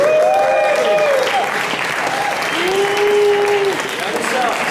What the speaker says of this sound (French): Applaudissez le top modèle.